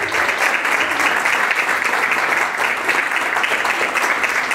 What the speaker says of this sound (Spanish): quiero pedir un fuerte voto de aplauso a mi querida y estimada hija